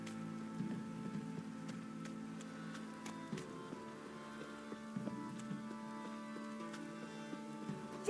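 A steady downpour in The Witcher 3 patters softly and evenly on surfaces, with faint scattered drips and a low background hum, and no voices.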